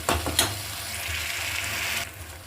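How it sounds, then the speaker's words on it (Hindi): Spices and tomatoes sizzle steadily in hot oil for a dal tempering, a bright continuous hiss with a couple of sharp clinks of a utensil at the start, close and fairly loud, then easing off. "एक बार हमारा छौंक चला लेते हैं"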